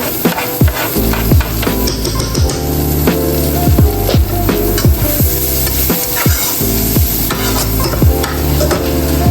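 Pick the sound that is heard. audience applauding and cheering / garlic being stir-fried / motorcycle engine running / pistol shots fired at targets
garlic being stir-fried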